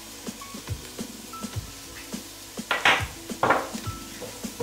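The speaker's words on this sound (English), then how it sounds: "And then give it a stir, just to toast it lightly." A spoon stirs pepper soup spice toasting lightly in a pot, giving a series of clinks and scrapes against the metal that grow louder and more rapid toward the end.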